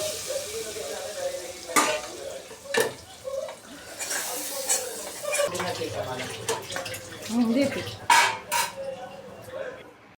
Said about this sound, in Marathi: आणि आता ही फोडणी डायरेक्ट मी टाकणार आहे डाळ खिचडीमध्ये